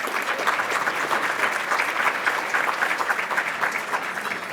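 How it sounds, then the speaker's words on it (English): Audience applause fills a luncheon hall at a Hispanic Chamber of Commerce executive event, steady dense clapping sustained throughout at moderate loudness, with no voices over it. "Let's give a big round of applause to all of our sponsors"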